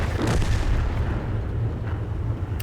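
A tank cannon fires in World of Tanks, the STB-1 blasting out a single heavy, booming shot that rolls into a rumbling decay with no voices over it.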